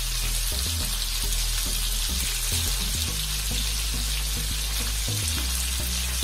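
Lemon pepper chicken frying in a pan over a low flame, a steady dense sizzle with soft popping and crackling, close and continuous with no talking.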